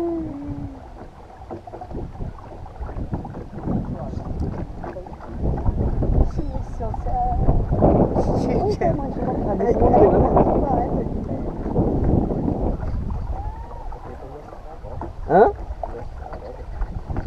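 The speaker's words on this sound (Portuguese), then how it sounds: "E é um barcozinho movido aí, energia solar aí." A small solar-powered boat glides along a river, its low motor and water noise swelling in the middle and fading again, with wind on the microphone and people talking close by.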